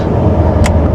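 A Nissan GT-R on the road, its engine giving a loud, close, steady low rumble from inside the cabin, with a brief hiss-like burst partway through.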